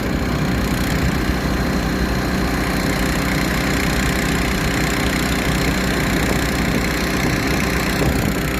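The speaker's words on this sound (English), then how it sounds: "3-inch pump gets it done." A steady, loud engine drives a 3-inch pump on a Kansas farm after a snowstorm, idling at a constant rumble throughout with no pauses and no voices.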